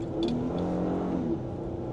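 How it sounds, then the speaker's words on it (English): A 2015 Honda Pilot with a replaced timing belt and fuel injectors accelerates on a test drive, a steady engine drone rising in pitch heard from inside the cabin, with no voices. "I don't want it really to rev it up too high on this engine."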